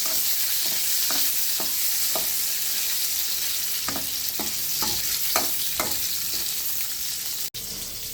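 Food frying in oil in a pan for a quick breakfast, a steady close sizzle punctuated by light scraping stirs and utensil taps.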